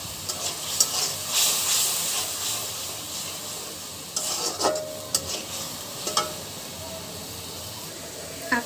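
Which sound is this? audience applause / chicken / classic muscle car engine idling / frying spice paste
frying spice paste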